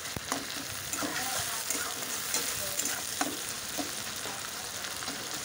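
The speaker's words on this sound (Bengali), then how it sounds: "একটু ভেজে নিলাম। টমেটোটা একটু ঘেটে দিলে ভালো হয়" Chopped tomato frying in a pan while being stirred and mashed, a steady sizzle broken by scraping strokes and soft clicks of a utensil, with no talk.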